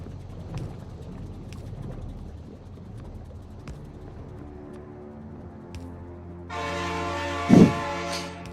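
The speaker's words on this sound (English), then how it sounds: "Train!" A train in the factory-building game Space Exploration rolls through, its low rumble building steadily before a loud, sustained horn blares in near the end, with a brief sharp clank at its peak.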